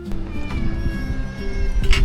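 Cat meowing insistently beside a seafood restaurant table on a Thai island, several rising meows close by over clattering dishes and table noise.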